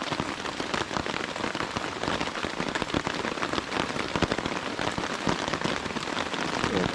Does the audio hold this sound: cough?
no